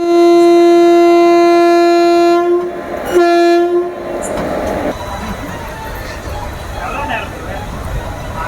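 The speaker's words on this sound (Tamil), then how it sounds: "நம்மளோட நீலகிரி எக்ஸ்பிரஸ் வந்து கிளம்பியாச்சுங்க 9:20க்கு" The Nilgiri Express blasts a long, loud, steady horn up close, breaks off briefly, then sounds a short second blast. After that comes the rumble and rolling clatter of the train moving past.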